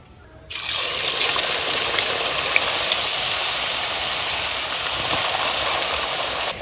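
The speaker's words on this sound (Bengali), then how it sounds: "তেলটা গরম হয়ে গেছে এখন আমি আলু চিপটা ভেজে নেবো" Potato chip slices drop into hot oil in a karai, and a loud, sudden hiss erupts and settles into a steady, vigorous bubbling sizzle that continues unbroken.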